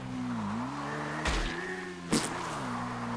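A motorcycle in the GTA 5 game hums steadily along with a shifting engine drone, broken by two brief whooshing bursts, with no voices.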